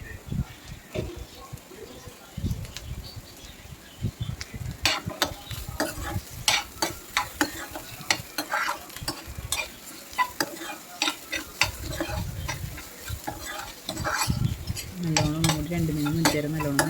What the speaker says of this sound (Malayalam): ഇളക്കി കൊടുക്കാം അപ്പോൾ നമ്മുടെ കയ്പ്പക്കായ തോരൻ റെഡിയായി